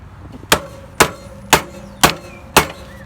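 Brake caliper on a 1977 Kawasaki KZ1000 struck at the piston end, five sharp metallic hammer blows about half a second apart, close and loud over a low background hum with no talking.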